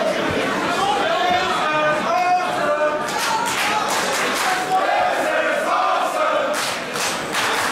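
An arena crowd at a women's division pro wrestling event, GWF Mystery Mayhem 2019, keeps up a loud, constant roar of chatter and shouting, while a commentator's voice talks over it.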